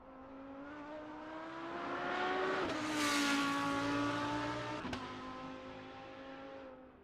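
GT race car lapping the Nurburgring circuit: a single engine roars louder as it approaches, its pitch climbing and then dropping as it sweeps past, fading slightly afterwards.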